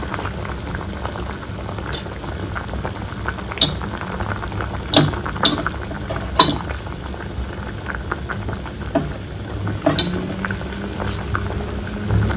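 Tamarind garlic curry, puli kulambu, bubbling at a steady simmer in a pot, with a continuous soft seething and occasional sharp clinks of a utensil against the pot, close and alone.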